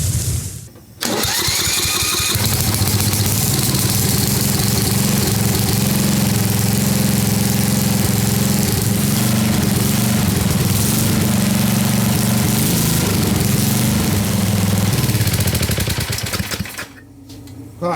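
An old Craftsman riding mower with a 10hp Tecumseh engine, recently water damaged and with a freshly tuned carburetor, cranks and catches, then runs loud and close at a steady rough idle before shutting off near the end.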